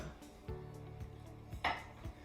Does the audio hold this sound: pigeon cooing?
no